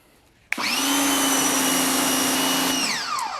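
An electric HART 1800 psi pressure washer with a 15-degree nozzle and 1.7 orifice, used for car detailing, switches on abruptly into a loud, steady, whining motor drone that holds for about two seconds before its pitch sags as it winds down.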